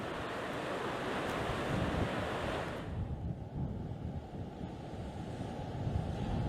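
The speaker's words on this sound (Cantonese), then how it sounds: "咁即使我哋企喺個涼亭入邊有瓦遮頭，但係其實感受到嘅風力咧亦都係冇減少到㗎" Strong Super Typhoon Ragasa winds roar across a seaside pavilion, a loud, continuous broadband rush with surf, easing slightly after the first few seconds but staying heavy and unbroken, no voices.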